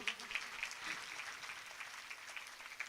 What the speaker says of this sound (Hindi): तो उनके लिए भी ताली बजाओ।